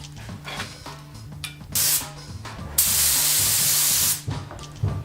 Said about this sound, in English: When spraying paint, maintain an even distance and steady pace.